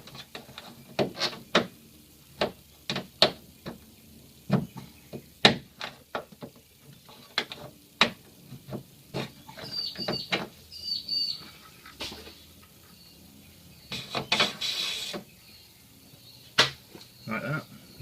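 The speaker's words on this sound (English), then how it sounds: "For that we just need a plastic trim remover and then just lever the little pin clips." Plastic trim remover levering pin clips out of the hood of a 1999 Subaru WRX: a rapid series of sharp plastic clicks and snaps up close, irregular and clustered, with short pauses between bursts.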